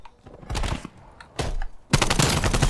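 Short bursts of gunfire in Call of Duty: Black Ops Cold War during aim practice against bots, with three separate volleys, the last one louder and sustained.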